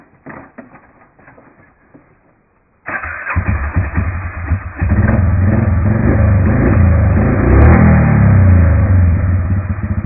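A Can-Am Outlander Max ATV engine, quiet at first, then abruptly firing up and holding a loud, rough, close rumble that swells into sustained revving.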